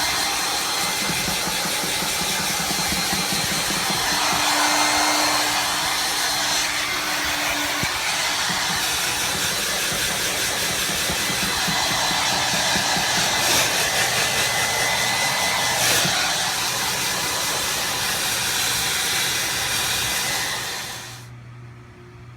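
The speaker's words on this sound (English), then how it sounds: "it's going to be super loud with the blow dryer." A hair dryer blows on a wet hen with a steady, loud whooshing roar that runs almost without a break, then cuts off near the end.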